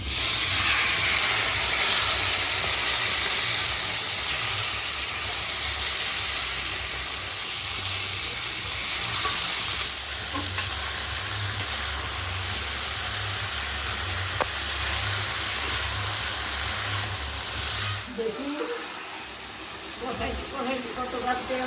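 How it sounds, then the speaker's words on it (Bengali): Meat sizzles and hisses steadily as it fries in hot oil in a wok for a Bengali braised-meat dish, a loud continuous crackle that runs throughout, with a brief clatter near the end. "তেল গরম হয়ে গেছে মাংসটা দিয়ে দিলাম এখন"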